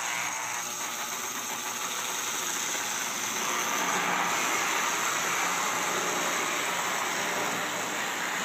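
A mystery engine running slowly gives a continuous buzzy drone that holds steady and fairly loud for several seconds, with no voices over it.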